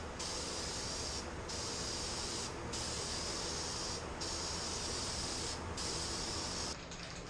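A spray can hisses out clear coat onto a Miata engine in several long bursts of about a second each, separated by short pauses, fairly faint and with no talk.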